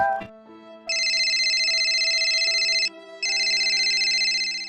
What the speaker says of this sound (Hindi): परम का फोन